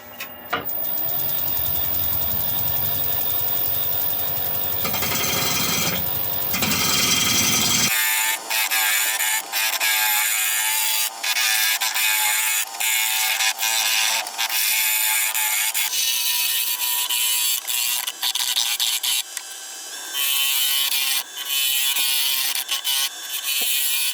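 A wood lathe spins a Swedish torch log as a gouge cuts it toward round, giving a loud, continuous rough grinding and chattering with dense rapid knocks from the uneven wood, unbroken throughout with no voices.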